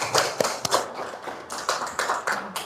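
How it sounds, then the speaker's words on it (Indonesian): Young children in a classroom clap in uneven bursts, sharp slaps scattered over a busy patter of small hands, fairly close and lively. "Iya, tepuk tangan."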